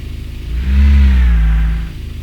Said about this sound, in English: So start the engine.